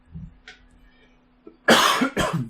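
Two harsh coughs close together near the end, preceded by quiet room noise and a faint low hum.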